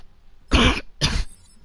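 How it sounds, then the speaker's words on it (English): Two sharp, harsh coughs in quick succession, close to the microphone, with quiet pauses around them. "At least try to stop coughing."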